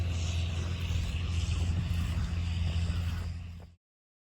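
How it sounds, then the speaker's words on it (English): A low, steady engine drone rumbles from a John Deere tractor tilling a field, continuous and moderately distant, then cuts off abruptly. "Got a nice John Deere tractor, tilling it up."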